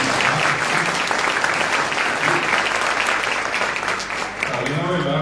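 Applause for the people of Capiatá at a Guaraní language and culture athenaeum tribute event, a dense sustained crowd clapping that fills the whole stretch, loud and continuous.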